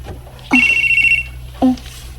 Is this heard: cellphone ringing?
yes